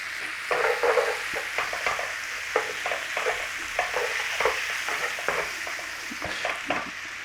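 Garlic sizzles in a frying pan with a steady hiss of frying, broken by repeated scraping and tapping as it is stirred, close and fairly quiet, with no talking.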